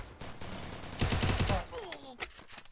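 A short burst of rapid automatic gunfire in the Free Fire video game, loud for about half a second, with a few scattered shots and whooshing game effects afterward over a busy background.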